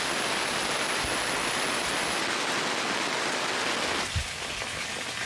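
Heavy rain pours steadily over a home kitchen garden in a dense, even hiss that lasts several seconds, then thins slightly near the end with a soft thud.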